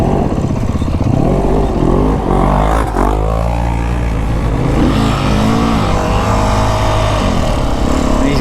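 A Beta 350RR X-Pro dirt bike revs hard and loud up close, engine note climbing and holding steady as it passes side-by-sides on a Memorial Day trail ride in the Santa Rita Mountains.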